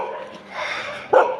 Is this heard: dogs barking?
yes